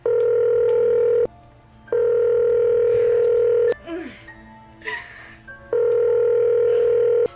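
A telephone rings on and on unanswered, three long electronic ring bursts with pauses between them, loud and close, while faint rustling and other small sounds fill the gaps.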